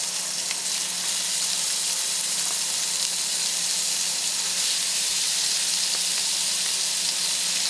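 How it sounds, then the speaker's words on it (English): Shrimp frying in a hot pan give off a loud, steady, continuous sizzle with a constant hiss throughout and no talking. "Oh, it's sizzling."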